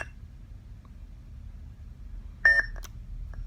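A lightsaber sound font boot sound from a Vader's Vault Ardent saber plays once: a short bright electronic beep with a brief tonal flourish after a near-silent stretch, followed by faint low hum.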